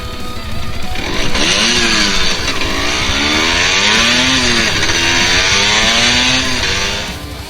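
A Honda two-stroke off-road motorcycle engine revs loudly and close by, its pitch rising and falling in repeated throttle sweeps with a raspy, buzzing whine over about seven seconds.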